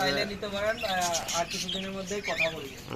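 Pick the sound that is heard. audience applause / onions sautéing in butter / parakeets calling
parakeets calling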